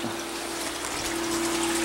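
Water pours steadily from a pipe into an aquaponics tank, a continuous close, fairly loud gushing splash with a faint hum running underneath, and no talking.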